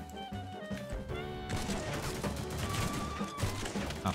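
Gunfire from a sniper in The Mean Greens, a plastic army-men shooter game, rings out amid dense, busy game noise, with sharp cracks and impacts layered over a loud, continuous battle soundscape.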